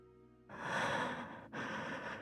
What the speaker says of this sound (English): Oh, we're listening to the breathing.